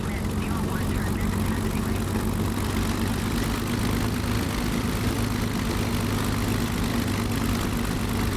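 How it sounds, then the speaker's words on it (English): A Bf 109G-6 fighter's propeller engine idles in a flight simulator game with a steady, loud, low droning rumble that continues unbroken throughout. "let's open up the canopy and listen to more of that beautiful engine"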